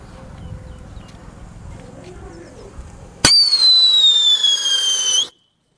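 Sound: Holi thunder firecracker exploding

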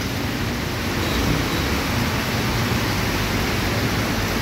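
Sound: heavy pouring rain

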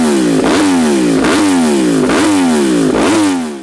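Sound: Yamaha R1 motorcycle crossplane crank engine revving

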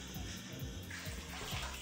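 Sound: water rinsing hair mask out of hair

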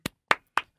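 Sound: applause

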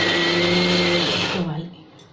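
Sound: mixer grinder running

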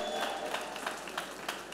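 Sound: applause from congregation

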